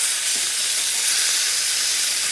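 Fish fries in oil in a tipped pan, producing a loud, steady, close-up sizzle with hissy crackling throughout.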